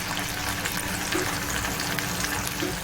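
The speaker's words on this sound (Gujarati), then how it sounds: "હવે મિક્સ કરી લઈશું" A gunda methia sambharo mixture is stirred in a pan, giving a soft, continuous sizzling and scraping sound. It is close and moderate in volume, with no talk.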